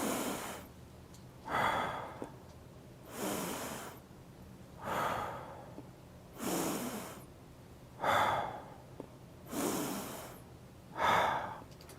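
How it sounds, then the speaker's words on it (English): Slow, audible breaths during a leg exercise, about ten alternating inhales and exhales in a steady rhythm every second or so, close and clear with no talking. "Now, breathing. You want to make sure that you breathe so that you inhale as you go down"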